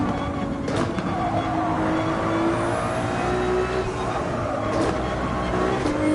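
A Ferrari 296 laps a race track in a racing video game, its engine a steady droning tone that rises and falls with shifts, heard at moderate level beneath a speaking voice.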